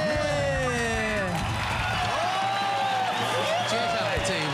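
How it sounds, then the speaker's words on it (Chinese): Studio audience applause on a Taiwanese TV variety show, with a steady wash of clapping and cheering running the whole time beneath a host's talking. "好，掌声给他们鼓励哦。"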